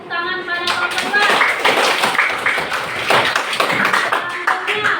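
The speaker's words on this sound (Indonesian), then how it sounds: "kita beri juga tepuk tangan pada kelompok 2." Schoolchildren in a classroom clap for a student group after its presentation, a burst of lively, uneven hand claps with voices chattering and calling out throughout.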